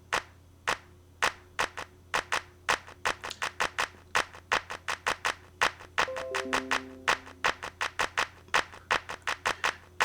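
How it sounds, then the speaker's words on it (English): Crisp electronic handclaps repeat in a steady rhythmic pattern, with quick doubled hits and a few brief tonal blips partway through, loud and dry. "And then the third clap sounds like this."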